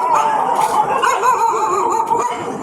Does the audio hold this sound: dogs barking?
yes